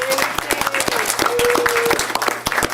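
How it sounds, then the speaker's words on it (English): Applause rises from the audience at a school district board meeting as a student leader from an elementary school comes forward, brisk steady clapping from a modest crowd with a low hum beneath and a voice briefly over it. "let's give her a round of applause, everyone"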